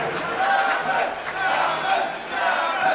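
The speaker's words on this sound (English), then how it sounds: "They're cheering Samus." A crowd at a Super Smash Bros. tournament match cheers and chants in a loud, sustained roar that swells in rhythmic waves for the whole stretch.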